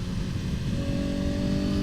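Exhaust note of a 2021 Honda CBR1000RR-R SP sportbike held steady around 6,000 RPM on a highway, a loud continuous engine drone with a strong low rumble and a sustained tonal hum throughout.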